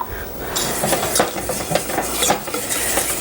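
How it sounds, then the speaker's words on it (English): Whisk scraping and stirring a flour and butter paste with liquid in a pan over a flame, a steady close scratchy swishing with soft metallic taps, no voices. "And then whisk that and let it thicken over the flame."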